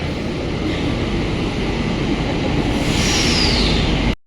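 A metro train rolls and gathers speed, a steady broadband rumble with a rising whine near the end, heard from inside the carriage with no talking.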